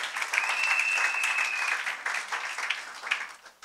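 A church congregation bursts into sustained applause to acclaim the Lord, dense clapping that stays loud for about two seconds, then thins and tapers off, with a brief whistle or shout in the crowd.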